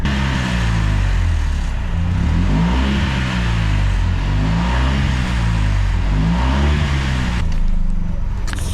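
A car with a damaged, smoking engine accelerates: a loud, close, rough engine drone that rises and falls in pitch through several revs and continues steadily throughout.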